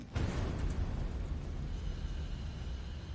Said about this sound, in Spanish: produciendo una explosión que hizo estallar la tapa del tanque